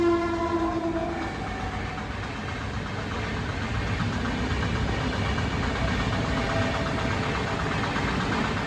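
A train rolls through a railway level crossing, heard as a loud, continuous rumble and clatter of wagons close by, with a horn blast sounding briefly at the start and no talking.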